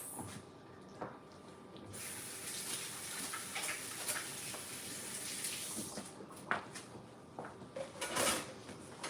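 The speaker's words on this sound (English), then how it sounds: "Let me wash my hands." Hands are washed under a running kitchen tap, giving a steady rushing hiss of water broken by small knocks and clatters nearby.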